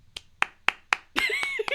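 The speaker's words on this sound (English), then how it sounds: "We just applauded." Two hosts clap their hands together in a short burst: four distinct, evenly spaced close claps, then voices start talking over a final pair of claps.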